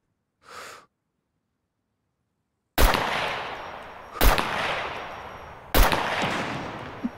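Gunfire in the video game SCUM: three loud, sharp shots spaced about a second and a half apart, each ringing out with a decaying tail, preceded by a brief breathy sound and silence.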